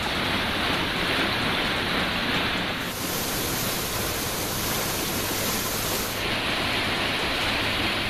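Floodwater thunders over Thirumal falls in a constant loud broadband roar that runs unbroken for the whole stretch, with no voices.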